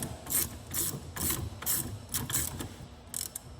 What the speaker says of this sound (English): Now I found that you needed a 14 millimeter wrench.